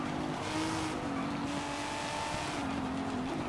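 A 2JZ-engined Toyota Celica driven in Forza Horizon 5, a steady engine drone with a faint wavering tone, fairly quiet and continuous throughout with no talk.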